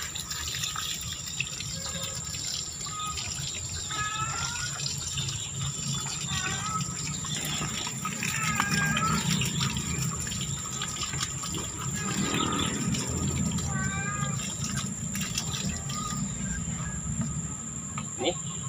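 Water poured onto a young durian tree after NPK fertilizer is applied, a steady close splashing gush that runs throughout with insects chirping in the background.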